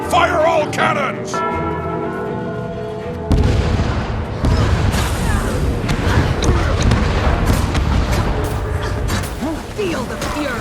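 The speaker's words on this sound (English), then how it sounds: "Fire all cannons." Cannons fire in a player-versus-player siege in the video game Guild Wars 2 after a signal bell rings. A loud, ringing bell tone opens, then a dense barrage of booming blasts carries on steadily to the end.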